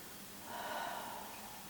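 A single audible breath out through the nose during a Pilates exercise, a soft, airy exhale swelling briefly and fading over quiet room tone.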